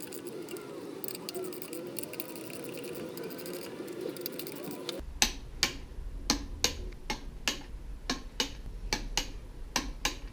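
A torque wrench clicks while E36 gearbox bolts are tightened: after about five seconds of quiet workshop murmur and soft voices, a series of sharp, close clicks repeats at a brisk, irregular rhythm.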